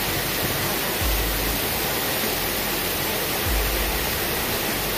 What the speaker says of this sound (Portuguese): A minha voz pode sair baixa por causa do barulho da água